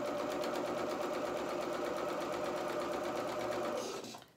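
A sewing machine stitching a dress skirt to its bodice seam, a steady close-up whirring run of rapid stitches that winds down and stops at the end.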